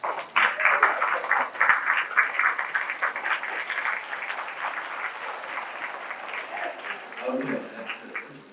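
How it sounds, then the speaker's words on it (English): Audience round of applause at a 1990 Marine flag presentation, voting for a contestant: a burst of dense clapping that starts strong and slowly thins out over several seconds. "I want you to give a round of applause for the one that you like the most."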